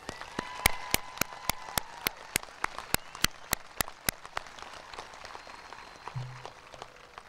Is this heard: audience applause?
yes